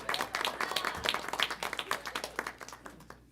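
A short burst of applause at a bat mitzvah service, hands clapping in a fast, uneven patter that fades out after a few seconds.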